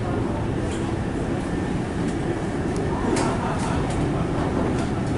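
Onboard a Melbourne HCMT high capacity metro train picking up speed, a loud, steady broadband rumble of wheels and traction noise runs throughout, with a few faint higher hisses and clicks on top.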